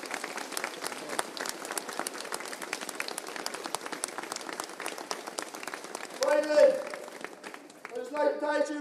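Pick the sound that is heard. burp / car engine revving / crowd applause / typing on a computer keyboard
crowd applause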